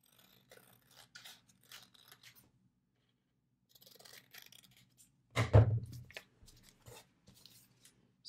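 Scissors cut paper around a mushroom shape in short, faint snips with quiet pauses between them, plus one louder thunk partway through.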